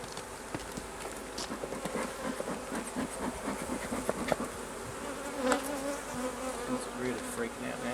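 Honey bees buzz densely around an opened backyard hive as a super is added, a steady agitated drone close to the microphone with occasional louder passes and faint handling noises.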